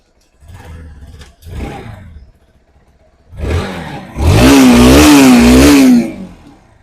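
A second-hand Bajaj Pulsar NS 160 motorcycle engine runs smoothly up close, with two short blips, then a longer, sustained rev that holds and falls back, with no talking.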